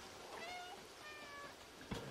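A cat meows a few times in the video game Stray, soft thin cries with faint ambient game noise underneath and a short bump near the end.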